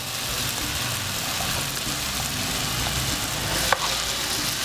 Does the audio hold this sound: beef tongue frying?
yes